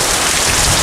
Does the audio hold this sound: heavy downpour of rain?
yes